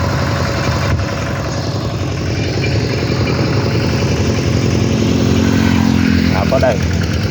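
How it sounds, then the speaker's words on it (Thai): A motorcycle engine runs steadily close by, idling as it pulls up and stops, with people talking over it throughout. "นี่มอเตอร์ไซค์คันหนึ่งจอดก่อน"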